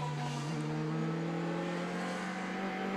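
On-board engine note from a DTM race car lapping the Nürburgring in 2017 qualifying, a steady, tonal high-revving drone that holds evenly and sounds somewhat distant and muffled.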